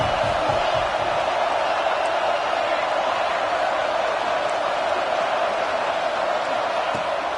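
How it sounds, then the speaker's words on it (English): A college football video game stadium crowd roars in a steady, dense wash of cheering that holds at a constant loud level throughout, with no breaks or individual voices standing out. "This crowd knows they have to bring it in big moments, and one of those has arrived."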